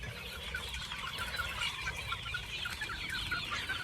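Healthy chicks and chickens cluck and peep together without pause, a busy, close flock chorus with no pauses. No voices are heard.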